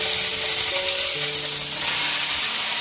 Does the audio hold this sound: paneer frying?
yes